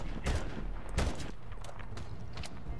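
Gunfire in the Medal of Honor video game, a few sharp shots around the start and near the one-second mark over a steady busy game backdrop, fairly faint.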